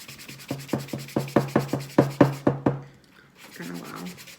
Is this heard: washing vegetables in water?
no